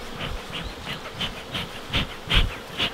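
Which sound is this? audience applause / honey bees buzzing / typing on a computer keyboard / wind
honey bees buzzing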